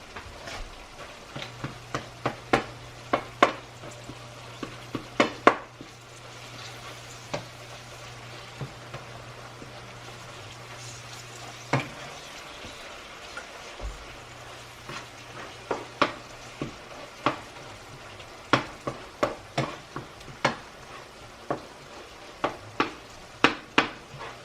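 Ground beef frying in a pan on a home stove, a soft steady sizzle with a low hum and frequent sharp clinks and scrapes of a utensil stirring against the pan, close and without speech.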